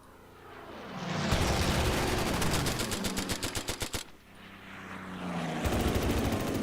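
Fighter planes strafing Stukas in the Order of Battle: Battle of Britain war game: a droning aircraft engine swells, then loud rapid machine-gun bursts rattle over it, pause briefly, and start again.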